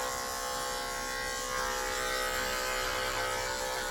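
An electric hair clipper, a classic 76 or Andis ZR2 Supra, buzzes steadily while cutting a skin fade. The motor hum is constant and close throughout, with a slight rise in intensity partway through and no talking over it.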